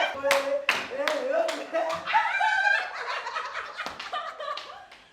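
Scattered clapping mixed with voices and bursts of laughter, the claps sharp and close, fading toward the end.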